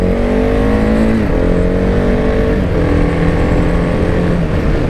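A KTM Duke 690, a 690cc liquid-cooled single-cylinder motorcycle, runs loud and close under throttle, its rough engine note holding steady and then climbing slightly in pitch throughout.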